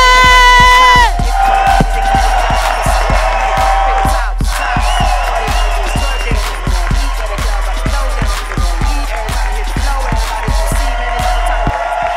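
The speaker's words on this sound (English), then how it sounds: "Keep clapping, keep clapping, keep clapping, keep clapping, keep clapping, and give it up for Sampson!" At a comedy show in Washington, D.C., a crowd claps in a steady, even rhythm for a comedian, with loud cheers and whoops on top and a shouted voice at the outset.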